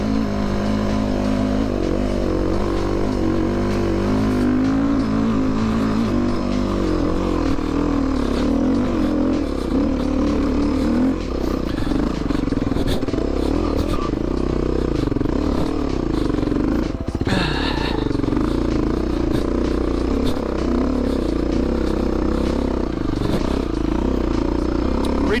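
A dirt bike engine drones continuously and loudly as the rider works a line on a trail, with clattering and scraping mixed in and the engine note shifting with throttle changes.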